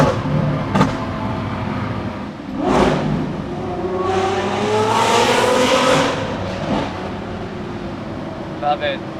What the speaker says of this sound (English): let us listen to the sweet sounds of the Lamborghini SVJ V12.